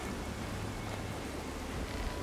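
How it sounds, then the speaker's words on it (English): Steady rain in the video game The Witcher 3 pours down in a dense, constant hiss with a low rumbling undertone, unbroken throughout. "Oh, it's raining again."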